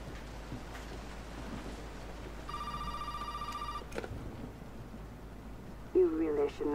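A telephone in the horror game Resident Evil 7 rings with one electronic burst over low ambient rumble, followed by quiet movement sounds and a brief voice near the end.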